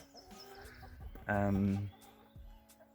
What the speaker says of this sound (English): So these are our older hens, these girls over here.